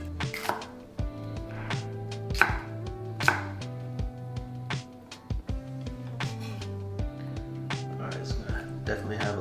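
A knife chopping onion and cilantro on a cutting board, with irregular close thuds and taps under steady background music while someone talks.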